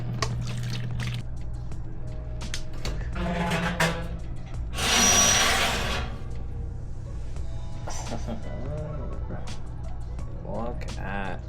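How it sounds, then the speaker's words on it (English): Cooked pasta water pours through a strainer in a home kitchen in one loud, splashing burst lasting about two seconds, rising out of quieter kitchen clatter, with a person talking before and after. "now that my pasta's done cooking, I'm gonna go ahead and strain off the water"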